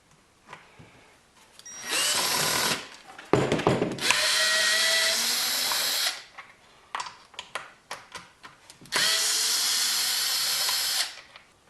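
A power drill whirs in three long, loud bursts as it backs screws out of a Poulan weed trimmer, with short clicks and handling clatter between the runs.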